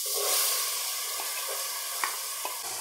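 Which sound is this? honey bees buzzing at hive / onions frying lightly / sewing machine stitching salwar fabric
onions frying lightly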